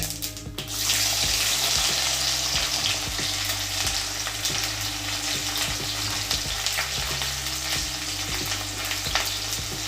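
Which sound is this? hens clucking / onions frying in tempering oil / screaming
onions frying in tempering oil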